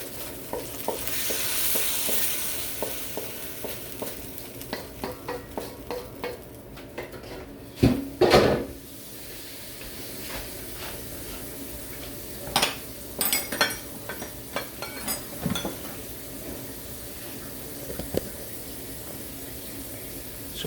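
Cooked chicken lettuce wrap filling is scraped from a pan into a bowl, giving repeated light clinks and scrapes of utensil on cookware over a faint sizzle, with one louder clatter partway through.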